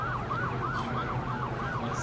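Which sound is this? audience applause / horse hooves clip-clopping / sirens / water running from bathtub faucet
sirens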